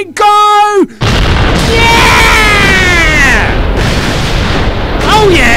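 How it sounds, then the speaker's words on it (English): Explosion in the Minecraft video game: a loud, sudden blast breaks in after a short burst of game sounds, then a long noisy rumble decays for several seconds, with more game tones near the end. "let's put someone here and watch it blow up"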